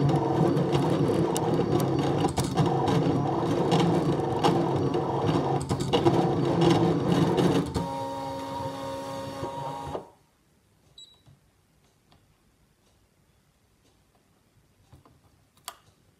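A ScanNCut cutting machine cutting a greeting and snowflake shapes into craft vinyl, with steady mechanical whirring and clicking for about ten seconds. The motor then stops and only faint, sparse clicks follow.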